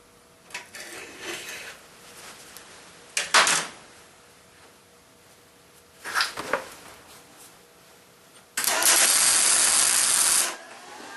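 Tack welds on a steel falling plate target for a .22 rimfire, heard as several short crackling hissing bursts a few seconds apart, ending in one longer steady sizzling weld run, close by with no talk.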